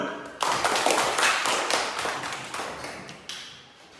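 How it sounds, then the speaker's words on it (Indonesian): Classroom applause from a group of students, a burst of many overlapping hand claps that starts suddenly, stays loud, then thins and fades over a few seconds. "Nah, tepuk tangan dulu."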